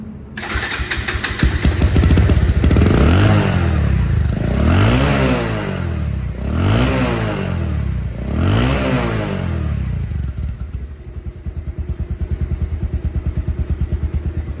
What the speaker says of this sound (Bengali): বাইকটি চলা চার হাজার প্লাস সাউন্ডটা শোনেন